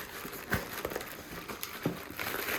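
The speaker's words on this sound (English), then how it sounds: "So they come in this sealed plastic bag and little wax paper of sorts" Sealed plastic bag and wax paper crinkle faintly during an unboxing of car suspension top hats, with sparse soft crackles and a few sharper rustles close by.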